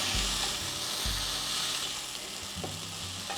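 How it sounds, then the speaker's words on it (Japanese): Vegetables stir-fried with sauce in a pan, a loud continuous sizzle broken by repeated low scraping thumps as the food is tossed, with no voices. "ソースを入れたらさらに炒めていきます。"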